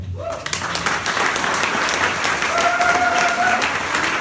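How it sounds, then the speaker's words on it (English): Applause from a crowd at the opening of Antwerp Pride 2016 swells after a brief pause and holds steady, dense clapping that carries on under a faint tone. "So I would like to give them a big applause as well."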